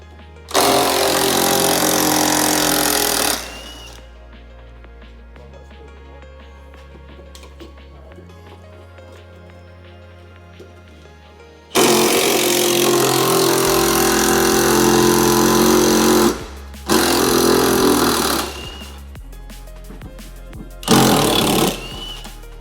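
A pneumatic buzz gun power tool works on the suspension of a track-built JCW, firing in loud, dense bursts of several seconds each, separated by quieter gaps of low mechanical hum.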